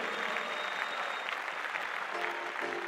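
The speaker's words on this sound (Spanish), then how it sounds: "Un aplauso para estos niños de Venezuela." A studio audience at a televised Venezuelan children's talent show breaks into applause, a dense, steady wash of many hands clapping at once that holds evenly loud throughout, with faint voices and music underneath.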